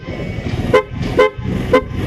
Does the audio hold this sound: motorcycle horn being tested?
yes